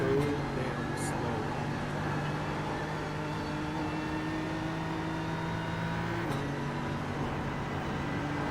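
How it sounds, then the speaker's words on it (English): BMW GT3 race car in a racing simulator lapping Mount Panorama at Bathurst: a steady engine drone with sustained harmonic tones holding a near-constant pitch throughout, with a brief shift near the end. "I'm in the BMW right now going around Mount Panorama"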